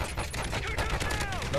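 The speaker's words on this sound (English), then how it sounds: "Why do you shoot me, boy?" Rapid bursts of gunfire in Call of Duty: Infinite Warfare's Jackal Assault VR mode, dense overlapping shots over a busy game soundscape, with a voice talking over them.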